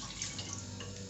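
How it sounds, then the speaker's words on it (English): Water runs steadily into a kettle from a glass, a short continuous pour with light splashing and trickling, close by and with no talking. "so I'll just add a glass of water to the kettle."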